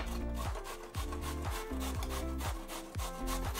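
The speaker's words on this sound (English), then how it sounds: "Just take one piece, grate it." A piece of carrot is rubbed against a grater in about eight quick, even strokes, each a close, rasping scrape in a steady rhythm with no talking.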